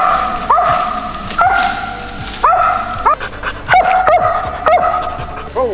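A hunting hound bays repeatedly at an animal up a big pine tree, loud ringing barks coming in a steady rhythm, each followed by short yips, close by and with no talking.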